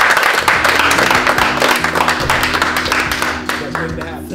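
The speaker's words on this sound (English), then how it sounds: "Round of applause to you guys." Audience applause for the models at a fashion show, a dense, steady wash of clapping with a cheering crowd and music underneath, loud and continuous throughout.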